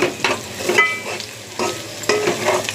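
A masala paste with cashews, almonds and garam masala fries in a pan for chicken fry, a steady sizzle broken by the scrape of a spoon stirring every half second or so.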